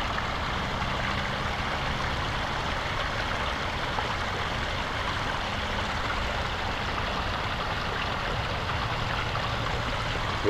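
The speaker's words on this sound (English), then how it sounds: "I can hear over here the culvert's doing well" Water flows through a culvert in a steady, continuous rushing wash, moderately loud and unbroken throughout, with a faint low rumble beneath and no voices.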